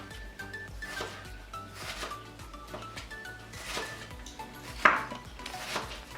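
A knife chops onion into tiny pieces on a board for a salad, a series of crisp cuts over quiet background music with one sharper knock near the end.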